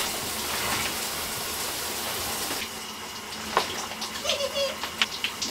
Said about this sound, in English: Good shower.